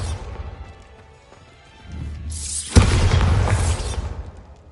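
A Bombarda spell in Hogwarts Legacy builds with a low rumble, then bursts into a loud explosive boom that crashes and decays over about two seconds.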